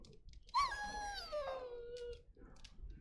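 A dog in a video game lets out a single high, wavering whimper that sinks in pitch, faint and alone over a quiet background.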